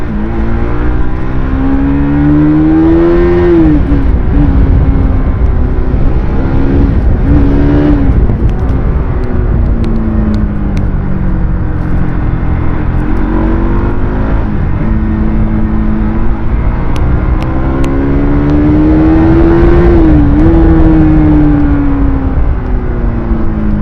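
A modified Bajaj Pulsar NS200 motorcycle with about 27,600 km on it is ridden close up, its engine droning loud and continuous with repeated rising and falling revs as it accelerates and eases off.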